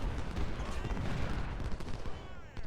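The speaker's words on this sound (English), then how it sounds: "This should be a great volley here." Musket volleys crackle in the Civil War strategy game Ultimate General: Civil War, with dense overlapping shots rolling steadily for a few seconds like a ragged fusillade, loud and continuous.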